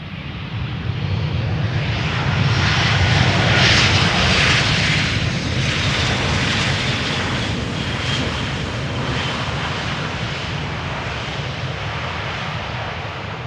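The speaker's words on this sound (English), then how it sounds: "Embraer 190 returning from Norwich" An Embraer 190 jet passing near Schiphol's Polderbaan runway on a warm day, a loud sustained broadband roar that swells and then slowly fades as the aircraft moves off, with no one talking.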